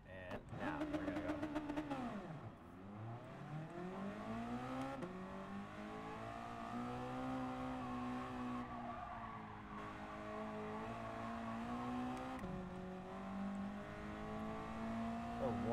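A race car in the video game GT Sport pulls out of the pits, its engine climbing steadily in pitch through repeated gear changes, with a tire squeal early on and a continuous loud drone throughout.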